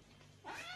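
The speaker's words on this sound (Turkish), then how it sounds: "o hayvan bayağı miyav diyor" A cat gives a short, drawn-out meow, played back from a video and heard alone at low level against faint background hum.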